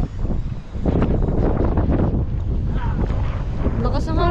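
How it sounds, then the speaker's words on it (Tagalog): Strong wind at sea buffets a small boat, roaring loudly and continuously against the microphone, with the rumble of wind and water throughout and voices talking over it. "Lakas ng hangin oh!"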